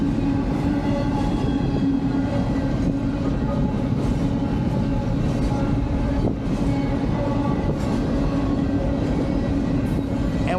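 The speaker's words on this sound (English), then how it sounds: "That train snuck up on us though." A Union Pacific train rumbles steadily past on the tracks in Sierra Blanca, Texas, loud and continuous with faint rhythmic clacking of wheels throughout.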